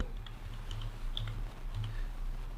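Scattered key taps on a computer keyboard, light irregular clicks close by over a low steady hum, no voices.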